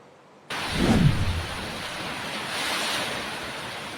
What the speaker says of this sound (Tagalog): Kita ang pagbayo ng malakas na hangin sa mga puno.